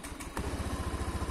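A 2011 Honda Beat scooter engine idles nearby after being restarted: a quick pulsing putter settles into an even, steady rhythm, fairly quiet and alone.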